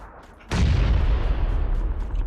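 A grenade explosion in PUBG: Battlegrounds bursts suddenly and loud after a brief quiet lead-in, then rolls into a sustained, heavy rumbling blast that lingers to the end.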